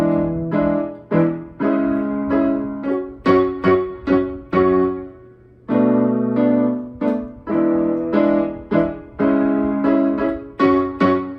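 Solo piano plays the second instrumental section of a song, a sequence of full sustained chords struck in a steady rhythm with fading decays between them, close and clear with no voices.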